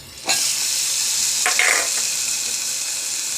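Masala and turmeric hit hot tempering oil for a simple potato bhaji, bursting into a sudden loud sizzle that settles into a steady hiss, broken by a brief stirring scrape midway.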